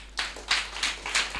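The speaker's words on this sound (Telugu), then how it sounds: "Clap your hands." Hands clapping in a congregation at a church sermon, a few separate claps spaced in a loose, uneven rhythm at moderate loudness.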